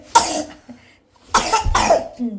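A child lying in bed in very cold weather coughs in two close, loud bursts, the second longer and rougher, with brief quiet between.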